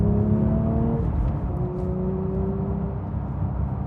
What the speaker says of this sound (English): trademark GT3 howl coming into the cabin